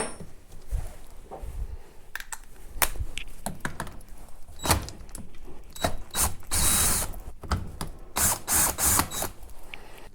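Wrench loosening the nuts on a chainsaw side cover, a close series of irregular metallic ratcheting clicks and clanks with short pauses between bursts.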